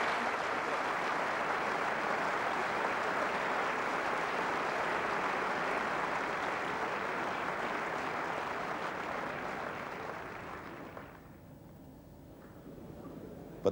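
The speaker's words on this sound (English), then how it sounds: "applause after applause for the defending champion" Crowd applause at the 1985 snooker world final between Taylor and Davis, long steady clapping from a large arena audience that gradually fades away near the end.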